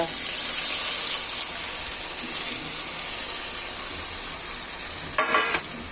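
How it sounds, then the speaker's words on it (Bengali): Water poured into a hot pan of chicken marinated with soy sauce, vinegar, turmeric and spices, giving a steady loud sizzle with a brief gush of pouring near the end. "এই পর্যায়ে আমি যে পানিটা দিয়ে দিচ্ছি"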